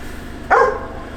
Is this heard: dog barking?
yes